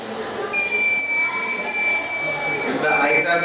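The buzzer of a battery-powered IR-sensor eye-closure alarm starts after a brief pause and holds a shrill, steady electronic tone for about three seconds, with a faint voice and room noise in the background.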